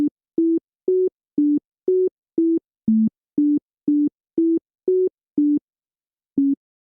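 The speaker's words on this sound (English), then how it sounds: "it's Yankee Doodle" Simplified Yankee Doodle melody played as a sequence of short, evenly spaced pure electronic beeps, all notes kept within the same octave, about a dozen tones in steady rhythm with a brief pause before the final note, clean and alone.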